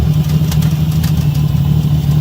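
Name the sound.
Honda XR100 motorcycle idling high with muffler knocking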